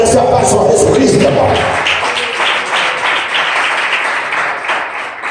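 A church congregation applauds loudly, a dense wash of clapping that is strongest at the start and continues steadily with voices mixed in.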